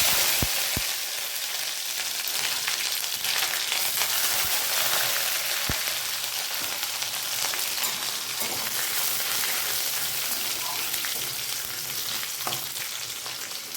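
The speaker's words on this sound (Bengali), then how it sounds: "বাদামগুলো খুব বেশি ভাজবো না, মোটামুটি একটু ভাজবো।" Peanuts frying in a pan with green cardamom and cinnamon, a continuous bright sizzle with occasional soft clicks of stirring, close and steady throughout.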